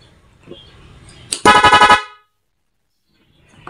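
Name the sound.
rapid car horn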